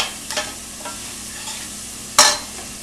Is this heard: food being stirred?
yes